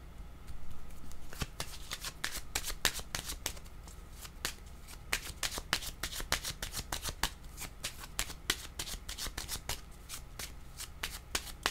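Tarot cards shuffled by hand, a dense rapid run of crisp riffling flicks and slaps continuing steadily at close range, with no talking.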